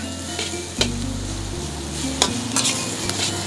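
Fried rice ingredients stirred and tossed in a hot sizzling pan, with loud, close scrapes and knocks of the utensil over a continuous frying hiss.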